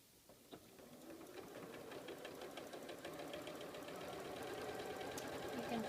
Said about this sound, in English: Okay, now we're ready to sew.